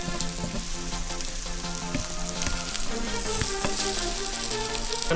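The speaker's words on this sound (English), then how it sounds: "Just get your fish browned off nicely." Fish browning in a frying pan, a dense, continuous sizzle with crackling pops and a few stirring knocks, close and steady with no voices.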